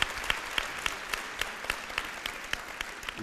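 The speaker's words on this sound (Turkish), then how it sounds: "Onlara bir küçük alkış daha alalım" A television studio audience applauds steadily, producing a dense wash of clapping with regular sharper claps standing out, and it holds at an even level throughout.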